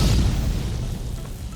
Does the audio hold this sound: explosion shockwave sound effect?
yes